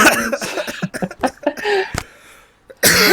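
A short burst of coughing with a throat-clearing sound, close and fairly loud, followed by a brief quiet pause and a voice starting again.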